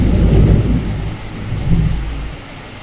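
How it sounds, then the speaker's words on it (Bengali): Heavy rain pours outside a house during a storm, with loud, deep rolls of thunder rumbling twice over the constant downpour. "প্রচন্ড বৃষ্টি"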